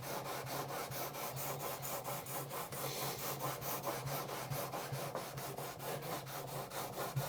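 Guitar frets being rubbed with 600 grit abrasive in steady back-and-forth strokes, a continuous rhythmic scratchy rasp close by, with no talking.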